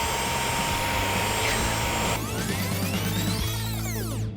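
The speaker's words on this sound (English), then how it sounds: "I'm going to vacuum him just to get off any loose dirt before we get into the washing machine bit" A vacuum cleaner runs continuously over a childhood teddy bear to lift loose dirt, a loud close whine and roar whose pitch shifts and sweeps as the nozzle moves across the plush.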